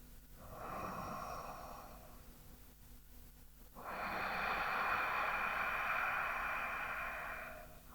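Ujjayi breathing with long exhalations through a constricted glottis: two close, hissing, ocean-like breaths, a shorter one and then a long sustained one after a brief pause.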